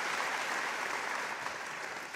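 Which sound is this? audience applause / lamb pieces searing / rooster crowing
audience applause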